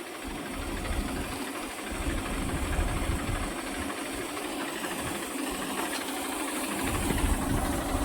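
A tractor engine's continuous drone with a rhythmic, pulsing chug and the hissing spray of a tractor-mounted crop-spraying motor on a farm, steady and fairly close throughout.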